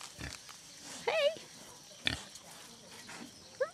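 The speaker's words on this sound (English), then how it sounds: "I never knew pigs would eat pineapple." Pigs in a Karen village in Chiang Mai, Thailand grunt and snuffle close by while eating pineapple, with a few short squeals and sparse, quiet bursts.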